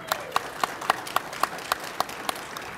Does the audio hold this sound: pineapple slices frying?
no